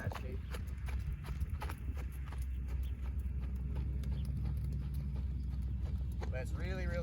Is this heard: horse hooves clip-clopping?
yes